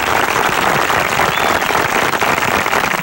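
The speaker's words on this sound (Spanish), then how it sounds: "Aplauso para ustedes." A crowd at a National Guard ceremony claps loudly and continuously, a dense, close wash of applause with no break for the whole stretch.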